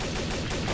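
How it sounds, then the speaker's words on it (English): Rapid gunfire in the Garry's Mod game mode Trouble in Terrorist Town, a dense run of close, loud shots that fills the whole short stretch without a break. "who's shooting?"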